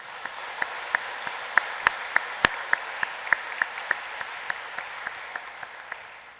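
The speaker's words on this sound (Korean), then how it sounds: "지난 반년 동안 우리와 함께 하신 하나님께 영광의 박수를 올려드립시다." Church congregation applauding during a Sunday thanksgiving service, a soft wash of many hands with a few sharp, distinct claps standing out, moderately faint and fading toward the end.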